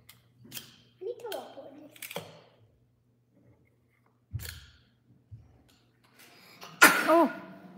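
A baby girl plays indoors, and a small sneeze bursts out near the end. It follows a few scattered soft sounds and clicks in a quiet room.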